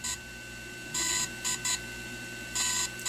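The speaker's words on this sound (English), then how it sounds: "where it's three beeps, one long, two short, that means it's complete" A high electronic beep pattern from a DJI Phantom 3 drone marking firmware update completion repeats twice: one long tone followed by two short ones, clear against a quiet steady hum.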